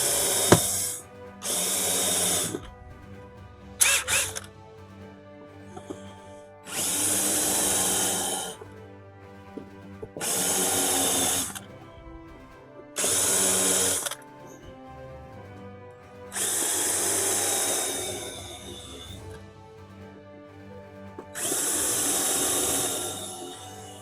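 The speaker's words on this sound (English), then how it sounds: "Just countersink those." Power drill countersinking screw holes during a Mellor bus camper conversion, heard as about seven loud whining bursts of a few seconds each, separated by short quiet gaps.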